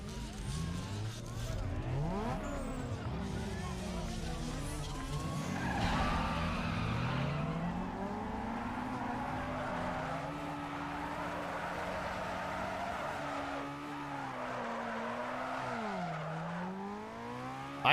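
Cars drift in the Need for Speed Underground 2 racing game, with sustained tire squeals and skids over whining, revving engines, loud and continuous across the whole stretch, while a voice talks over it.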